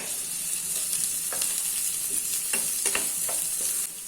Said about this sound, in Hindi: अभी इसको गोल्डन ब्राउन होने तक मीडियम फ्लेम पे 4 से 5 मिनट तक फ्राई कर लेना है